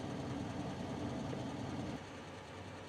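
A 2019 GMC Sierra Denali HD with the L5P Duramax diesel idles in a steady, close, dense rumble that drops slightly in level partway through, with no voices.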